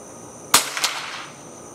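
A single sharp crack from a Savage MK II rifle firing German ammunition outdoors at a range, loud and close, followed by a brief second report or echo and a short fading tail.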